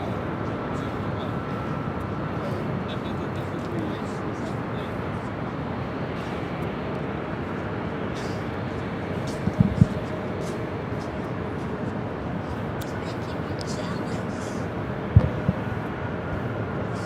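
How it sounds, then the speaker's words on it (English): A Delta Airlines Airbus A319 arriving at LAX from Portland on New Year's Eve produces a steady, broad jet roar that holds for the whole stretch, with a person talking over it. "This arrival is Delta Airlines 2459 coming in from Portland on the A319."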